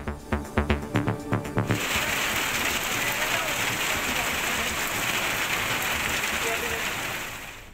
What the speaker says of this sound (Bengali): সিলেট মৌলভীবাজার ও নেত্রকোনায় স্বস্তির বৃষ্টি